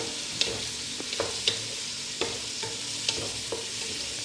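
Onions frying for pilau, stirred in a pan: a soft steady sizzle runs throughout, broken by a handful of sharp scraping clicks from the stirring spoon at uneven intervals, close and fairly quiet.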